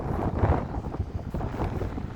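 Strong wind on a mountain road in Tajikistan buffets the microphone in a steady low roar with gusts rising and falling throughout; no voices.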